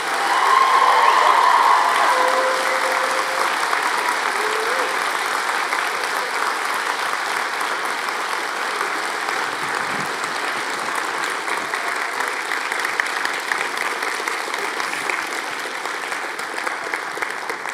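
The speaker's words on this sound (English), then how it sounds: "By the way, cheering is permitted." A large audience at a university winter graduation ceremony applauds loudly and steadily, with some cheering mixed in, a dense sustained clapping that stays strong from start to finish.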